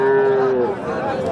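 A cow at a cattle market gives one loud, close moo lasting about half a second, which trails off into a busy background of crowd murmur.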